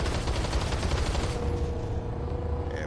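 Rapid bursts of pistol fire from hip-fire triple shots in the Planetside 2 video game crackle loud and close, a dense rattling volley that stops abruptly, leaving a faint ringing tail.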